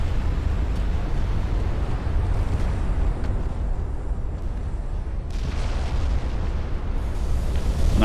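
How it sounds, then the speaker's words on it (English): Flash fire explosion aboard the destroyer Terror in the naval game Ultimate Admiral: Dreadnoughts, a dense, continuous roar of booming blasts and rumbling bursts with fresh swells of noise partway through, sustained and loud throughout. "Oh no, flash fire on the Terror."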